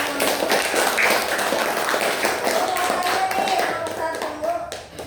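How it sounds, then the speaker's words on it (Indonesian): Fifth-grade pupils in a religious studies class clap in a loud, busy burst of hand claps and taps, mixed with children's voices, easing off toward the end. "Kasih tepuk tangan dulu dong untuk"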